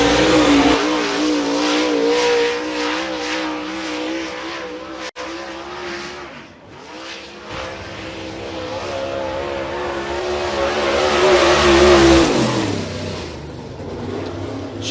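Lucas Oil MLRA Late Model race cars roar around the Cedar County Speedway dirt track, engines revving loudly and continuously with rising and falling pitch as they pass and accelerate.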